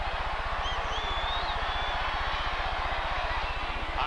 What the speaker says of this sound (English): that's a helicopter there.